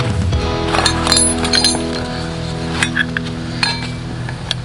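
Loose steel spanners, a tyre spoon and an old-style screwdriver in the toolkit of a 1959 AJS Model 31 Hurricane motorcycle clink together in a few bright metallic rattles over a steady low hum.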